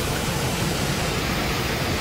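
Waterfall at a brown bear fishing spot, a constant broadband rush of falling water, steady and fairly loud with no gaps.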